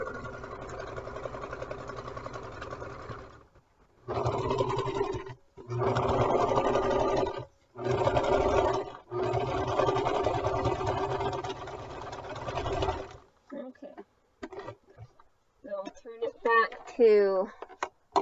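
A sewing machine stitches a fabric G-tube pad in several close, steady buzzing runs of one to five seconds separated by short stops, followed by someone talking.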